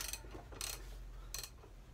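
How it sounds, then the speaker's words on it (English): A socket ratchet is turned on the headstock bearing nut of a scooter. Three short, faint clicking bursts come close by, separated by brief pauses with no talking. "I think we'll go for a slightly bigger ratchet, just to make sure."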